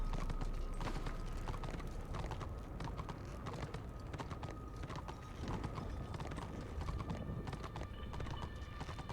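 Horse hooves clip-clop in a quick, steady rhythm with a whinny, in the Warhammer Online video game, set against a constant bed of game ambience and faint mechanical ticking.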